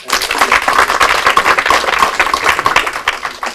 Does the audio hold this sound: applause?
yes